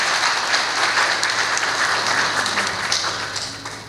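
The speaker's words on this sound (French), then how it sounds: "Encore une fois, sur l'applaudissement, s'il vous plaît." An audience at an installation ceremony applauds steadily for several seconds, a dense wash of clapping that fades slightly toward the end.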